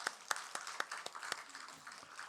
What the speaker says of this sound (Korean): 우리 자녀들을 위해서 우리 격려 축복의 박수 하시겠습니다